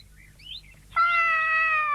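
A cat lets out a single long, drawn-out meow, loud and close, after a couple of faint squeaky sounds, with no talking over it.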